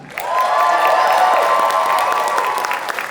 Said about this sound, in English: Cue the clapping.